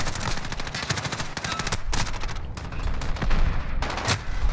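Rapid bursts of automatic gunfire and single shots crack repeatedly in a Call of Duty: Modern Warfare match, loud and dense with brief gaps between volleys.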